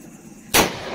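A single loud firecracker bang goes off close by during Diwali celebrations, a sharp burst that then rings and fades.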